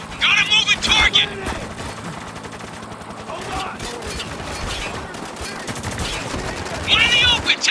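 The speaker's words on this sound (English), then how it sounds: "Taking heavy fire!" Heavy automatic gunfire from the war shooter Spec Ops: The Line, with dense bursts of rifle and machine-gun fire, louder clusters near the start and end, and a steady battle din between.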